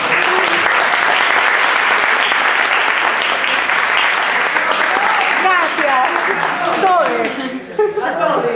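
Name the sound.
audience applause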